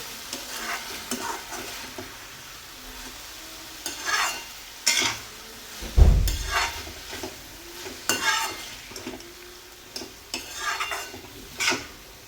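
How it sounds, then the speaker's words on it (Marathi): Moth beans and potatoes sautéing in a pan for a Khandeshi matki khichdi, with a soft steady sizzle broken by repeated scraping stirs and a few louder clanks of the spoon against the pan. "आता मटकी आणि बटाटे यातच छान परतून घ्यायचे आहे."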